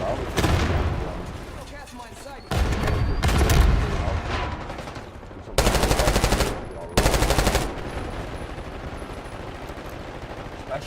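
Automatic gunfire from a video game, with several loud sustained bursts and scattered shots over a constant background din of game sounds and speech.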